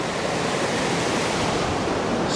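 A Utah river rushes at very high spring runoff flow in June, a continuous loud roar of water filling the scene without any talking.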